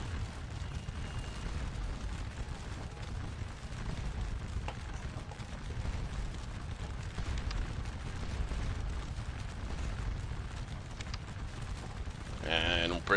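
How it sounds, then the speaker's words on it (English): Cannon firing canister shot in the Napoleonic battle game Scourge of War Waterloo, a steady low rumbling barrage of booms with scattered sharper reports throughout, set in the Battle of Quatre Bras. "our cannon on the left here are beginning to fire canister into these units' flank"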